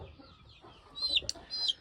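A Hoy Muff gamefowl pullet gives a few short, soft clucks while being handled, close by, over faint rustling and low background noise.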